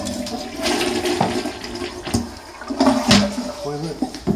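A toilet flushes in a small bathroom of a rental home in Farmington, Utah, a loud rushing swirl of water lasting several seconds, close by, with faint gurgles as it refills.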